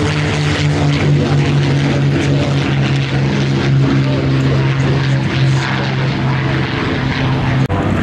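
Messerschmitt fighter's propeller engine drones loud and steady at the Duxford air show, a continuous low roar with a deep throbbing hum that holds for the whole stretch, with no voices over it.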